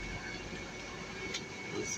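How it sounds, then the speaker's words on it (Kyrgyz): A metro train runs with a continuous low rumble and rail hum, steady and fairly loud throughout. "Метро"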